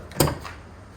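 A single short clunk of an abandoned Nissan Patrol's door being opened, fairly close, followed by quiet background hiss.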